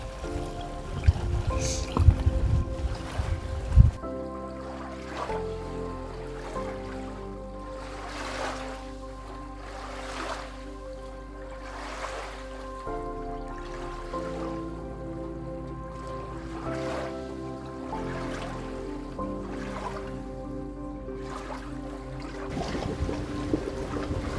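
A sailboat under way through a narrow passage, with water rushing and lapping along the hull and a steady low hum beneath, louder bumps and knocks near the start and otherwise an even wash throughout.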